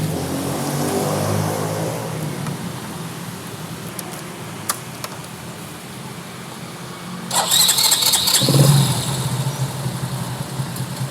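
Suzuki Shogun R 110 motorcycle engine being started, a brief cranking burst followed by the engine catching and running near and loud, after a stretch of broadband mechanical noise.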